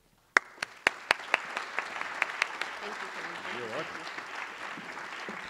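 An audience at an evening event applauds to welcome a speaker to the stage, starting with a few sharp loud claps that swell into steady sustained clapping from the crowd.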